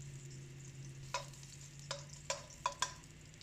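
Ginger slices sizzling in a tablespoon of oil in a wok over medium-low heat, a soft steady fizz broken by five or so sharp spatula scrapes and clicks, close and alone.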